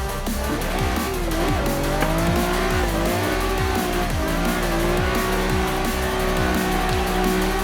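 A Nissan 350Z drifts in third gear after a clutch kick, its engine droning loud and steady while the tires squeal continuously, with shifting pitch as the slide is held.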